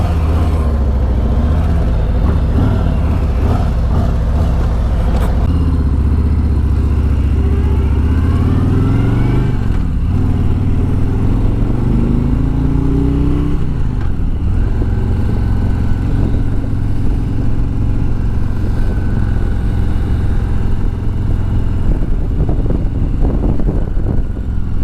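A 2020 Harley-Davidson motorcycle with a slip-on exhaust pulls hard in third gear at full throttle, a loud, close, deep rumbling engine note rising in pitch, dipping briefly at a shift, then climbing again.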